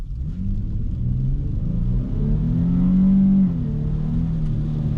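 An all-wheel-drive 2019 Dodge Challenger GT accelerating gently on a snowy road, a steady low engine rumble with a rising drone of revs, heard from inside the car with no talking.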